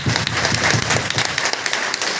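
An audience at a DXN meeting in Basti claps loudly, a dense burst of many hands at a steady level that continues right to the end.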